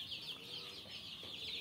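Eighteen-day-old tiger breed chicks on a small farm make a continuous high, shrill peeping chorus, faint and steady throughout.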